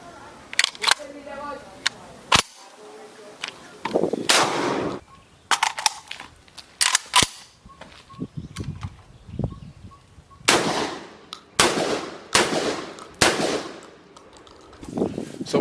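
AR-12 Boomslang Thunderbolt shotgun firing at an outdoor range, a string of sharp, loud blasts in quick succession with ringing tails, mixed with mechanical clacks of the action between shots.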